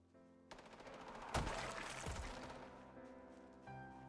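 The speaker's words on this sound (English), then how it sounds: "In the near distance, a machine gun rat-a-tat-tats." Bursts of machine gun fire in a zombie-filled video game battle, a rapid rattle that swells into a loud, dense volley before trailing off, heard fairly close amid game sound effects.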